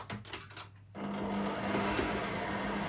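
Electric mixer beating cherry bakewell traybake batter in a home kitchen, a steady mechanical whirr starting after a second of faint clatter and holding at an even, moderate level throughout.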